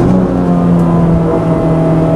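A Renault Clio 172 engine revs loudly on a racetrack, heard from inside the car as a steady raw, droning roar that holds at high intensity throughout the short stretch, with no talking.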